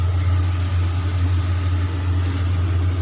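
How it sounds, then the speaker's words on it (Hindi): A household air cooler runs close by in a kitchen, giving a loud, constant motor drone and fan whoosh with a strong low hum and no variation over the few seconds. "कूलर चल रहा है ना, इसलिए आवाज़ क्लियर नहीं आ रही है"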